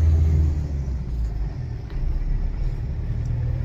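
A Mahindra Scorpio S4 pickup being driven, with a steady low engine and road rumble from inside the cab, continuous and fairly loud throughout.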